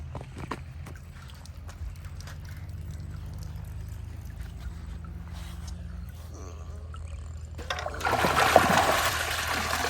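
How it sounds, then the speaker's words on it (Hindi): Water gushes and splashes from a motor pump on a farm, a steady pour and trickle that grows louder and rougher near the end. "ये है मोटर, थोड़ी से पानी छोड़ना है इसका"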